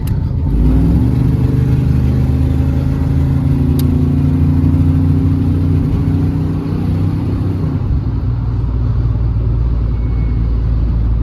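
A 1992 Chevrolet Silverado with long tube headers cruises on the freeway, its engine a constant loud low drone with a slight pitch rise early on, then easing off near the end, steady road rumble throughout.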